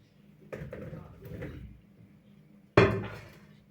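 Spiced potatoes being stirred in a bowl, a few scraping, clattering strokes of a utensil against the dish, close up, with a sharper knock near the end and quiet gaps between.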